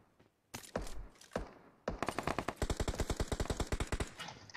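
Automatic rifle gunfire in a battle royale shooting game, a few separate loud shots, then a fast steady burst of many rounds firing in rapid rhythm, close and with no talk.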